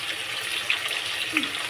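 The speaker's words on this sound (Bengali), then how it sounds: "এখন ভাজতে থাকি" Potatoes frying for aloo dum, seasoned with salt and a little turmeric in a pan of hot oil, give a steady, close hiss of sizzling with a couple of faint pops, no one talking.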